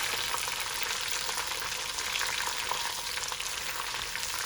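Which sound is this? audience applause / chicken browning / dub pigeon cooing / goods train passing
chicken browning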